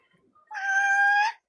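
House cat gives a single drawn-out, tonal meow close by, clear and loud after a brief quiet moment.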